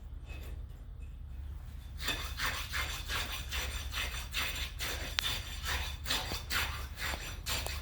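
A tamping rod driven repeatedly into the second layer of fresh concrete in a pressure meter bowl for an air test, giving a series of close, gritty scraping strokes in a steady rhythm after a quieter start.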